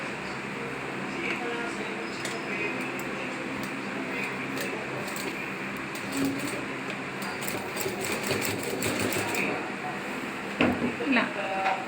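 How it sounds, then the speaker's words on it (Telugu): A sewing machine stitches the lining and main cloth of a midi together in one pass, a steady continuous mechanical whir running throughout at moderate level with a few brief louder bumps near the end. "లైనింగ్ మెయిన్ క్లాత్ అన్నీ ఈక్వల్గా ఇలా తీసుకునేసి ఒకేసారి నేను స్టిచ్ చేస్తున్నాను."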